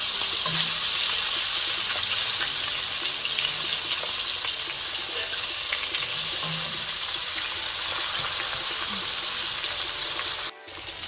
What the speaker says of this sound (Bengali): তাই আমি অল্প তেলে সব মাছগুলোকে দিয়ে দেবো।